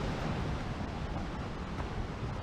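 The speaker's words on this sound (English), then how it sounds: "The waterfall there." A waterfall on the slopes of Scafell Pike roars as a steady, even wash of broadband rushing water, continuous and moderately loud, with no voices over it.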